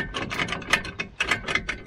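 Gear lever on a Karakat all-terrain vehicle clicks and ratchets through the gears, a close, dense run of metallic clatters over about two seconds with no one talking.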